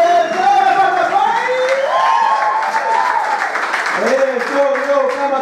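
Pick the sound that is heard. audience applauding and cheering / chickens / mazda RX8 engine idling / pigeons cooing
audience applauding and cheering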